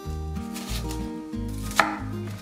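A kitchen knife slices an onion on a cutting board while vegetables are prepped for sundubu-jjigae, giving quick, close, steady knocks. Soft background music plays underneath, with one sharper chop near the end.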